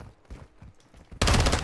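Gunfire in the video game Call of Duty Modern Warfare 2, a sudden loud burst of shots erupting after quieter, scattered game sounds.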